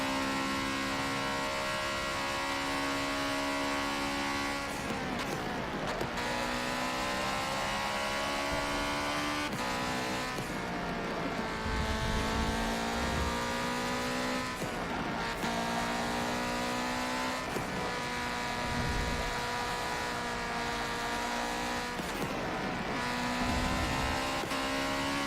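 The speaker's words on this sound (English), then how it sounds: "Occasionally the engine cuts out a little bit." Race car engine in Forza Motorsport 7 revving hard through the gears in long climbing pulls, repeatedly dropping away and momentarily cutting out before surging again, loud and continuous.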